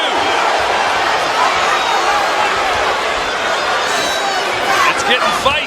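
Boxing crowd in a Norfolk arena during the eighth round of Keyshawn Davis vs Albright: a broad, continuous roar of crowd noise and chatter that swells near the end, with a commentator talking over it.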